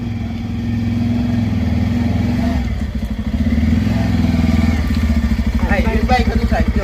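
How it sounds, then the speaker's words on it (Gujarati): A motorcycle engine putters close by with a steady mid-pitched throb that pulses and rises as it passes, with a voice briefly heard toward the end. "બાઈક હતું સાહેબ જો."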